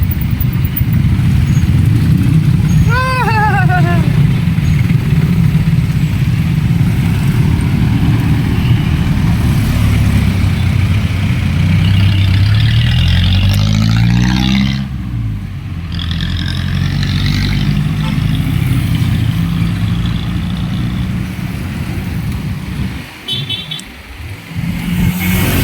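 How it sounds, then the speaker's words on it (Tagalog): Dense road traffic in a Filipino town area with many motorcycles and cars, a steady loud engine hum throughout with passing vehicles and a brief dip and louder rumble near the end. "Traffic, ang dami motor oh."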